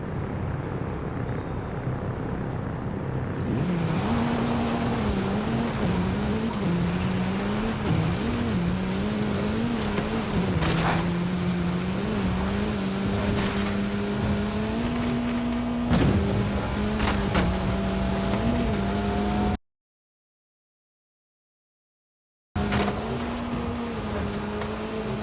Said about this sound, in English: the Hoonigan RS200 has a quick acceleration